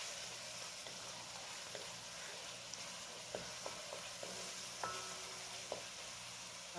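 Chopped tomatoes fry in a pan for a Guyanese nenwa and shrimp dish, giving a soft, steady sizzle. Faint scattered pops and spoon taps sound throughout, quiet and close, with no talking.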